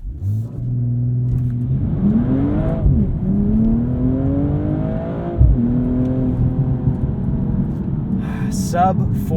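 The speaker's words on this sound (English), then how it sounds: "a launch-controlled start, sport traction, sport transmission mode." A 2022 BMW M240i xDrive coupe launches hard under launch control, its engine roaring up through rising sweeps with quick gear shifts, loud and close from inside the cabin; a voice speaks briefly near the end.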